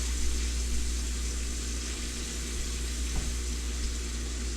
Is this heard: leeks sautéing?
yes